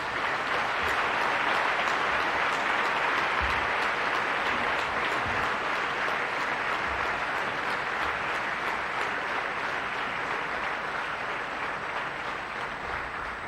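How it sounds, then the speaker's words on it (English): An audience at a BMS degree graduation convocation claps in sustained, dense applause that stays loud and even from start to finish, with no voices rising above it. "It is your chance now to give a round of applause, a thundering round of applause to these great achievers here this evening."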